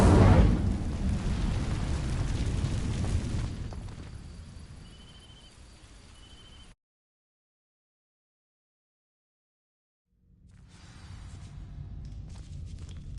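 A fiery burst from the Incendio spell in Hogwarts Legacy, igniting dry vines: a loud whooshing flare that fades into crackling, cuts to silence, then a quieter crackle resumes.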